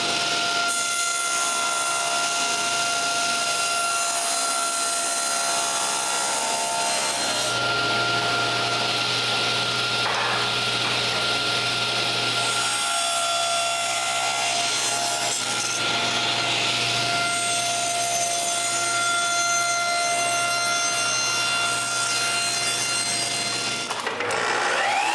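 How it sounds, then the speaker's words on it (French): A handsaw cuts the corners off wooden blocks in a workshop, producing steady rasping back-and-forth strokes close by. A continuous tonal hum runs underneath throughout. "Je marque les trois blocs en même temps et je coupe les coins."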